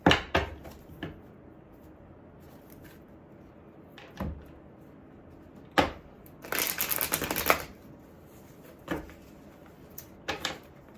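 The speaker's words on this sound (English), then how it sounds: "Seems like my ability to shuffle cards has also gone down the wayside" Several short riffles and taps of playing cards being shuffled nearby, spaced irregularly, with one longer flurry in the middle.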